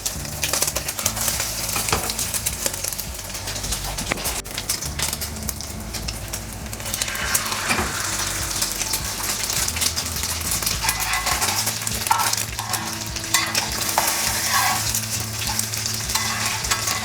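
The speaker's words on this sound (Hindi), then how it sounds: "पहले मैं शामी फ्राई कर लूँगी।" Shami kebabs fry on a hot griddle for burgers, giving a steady, close, loud sizzle and crackle with occasional stirring scrapes throughout, and no talking.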